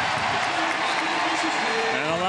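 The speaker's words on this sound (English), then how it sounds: "Round of applause for fan favorite Jimmy McLaughlin" A stadium crowd at an FC Cincinnati soccer match applauds a substitution, a broad, steady wash of clapping and cheering heard at a distance beneath an announcer's voice.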